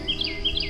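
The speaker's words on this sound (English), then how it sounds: "It's one of them cicadas." A cicada gives two quick pairs of short, shrill, rising chirps, fairly close and clear over a quiet, low hum.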